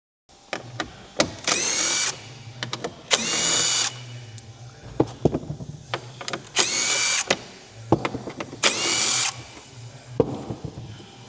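A power tool, likely a drill or impact driver, runs in four separate bursts of about a second each while undoing 10mm bolts on a Tesla Model S front bumper, with clicks and handling noises between bursts, close and fairly quiet.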